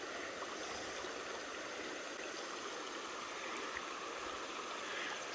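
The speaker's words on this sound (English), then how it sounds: "That's a beautiful creek too. That water's running pretty fast." A fast-running creek flows beside a wooded trail in South Mountains State Park, North Carolina, giving a steady, faint wash of rushing water that holds unchanged throughout, with no voices.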